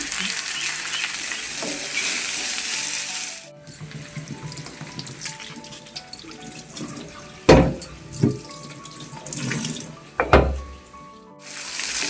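Potatoes and vegetable stalks fry with ground mustard and salt in a pan, a steady sizzle broken by a few sharp scrapes and clatters of stirring, with a quieter stretch in the middle.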